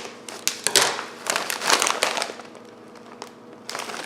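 A crinkly chip bag rustles and crackles in bursts as scissors snip it open up close, with short crisp crumpling sounds and quiet gaps between them.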